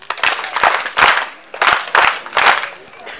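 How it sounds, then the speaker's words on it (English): School audience at a high school World Environment Day celebration clapping in uneven bursts, several loud waves of hand claps rising and falling over a few seconds, fairly close. "So can't you clap for your school?"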